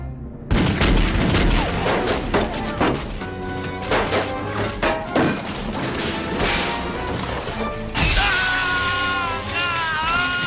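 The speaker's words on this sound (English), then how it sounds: "Don't waste your ammo on him! Shoot the Santa" Police gunfire aimed at a Santa figure in a Batman cartoon: loud, dense bursts of shots and crashes, mixed with yelling and a musical score, running continuously throughout.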